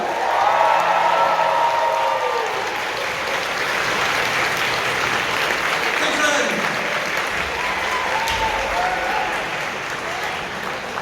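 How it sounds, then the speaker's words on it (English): A convention audience at the Kitacon 2022 closing ceremony breaks into loud, sustained applause that carries steadily for the whole stretch, dense and close, with some voices and cheers mixed into the clapping. "Can I get the biggest round of applause you guys have for kitacon?"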